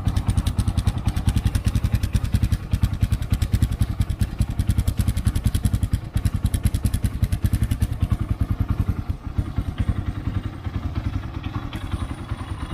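A Rusi KR250 Super Motard motorcycle engine runs steadily up close, a loud, even throbbing idle with mechanical clatter that holds for the whole stretch without any talk.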